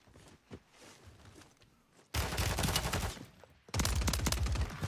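Sniper gunfire in the Warzone 3 video game, heard as two sudden loud bursts of dense shooting that start abruptly and run on, broken by a short lull, after a quieter stretch of faint game ambience.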